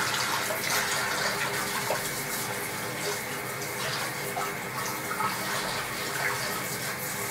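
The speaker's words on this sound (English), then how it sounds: "put some warm water in this bowl." Warm water poured into a bowl, a steady continuous splashing and trickling that runs unbroken for several seconds at an even level, close by with no talk.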